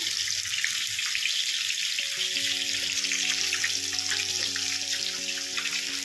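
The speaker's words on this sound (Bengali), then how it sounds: "মাছগুলো ভাজা হোক" Rupchanda (pomfret) fish fry in oil, making a continuous, even hiss and crackle at close range, with a soft melodic tone joining partway through.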